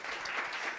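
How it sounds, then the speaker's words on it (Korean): Brief, quiet applause from a lecture audience at a Korean talk on creativity, a soft continuous patter of clapping heard alone for under a second. "박수 한번 쳐주세요."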